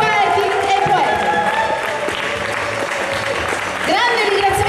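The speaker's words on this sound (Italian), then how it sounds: "grande applauso per tutti i 6 poeti e poeti" Big, dense applause from an audience at a poetry slam, honouring six competing poets; steady and loud throughout, with voices calling over the clapping.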